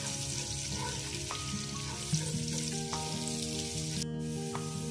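Crushed garlic frying lightly in a pan, a steady soft sizzle with occasional small crackles and clinks close by.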